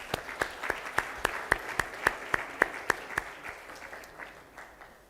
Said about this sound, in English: A huge round of applause for that.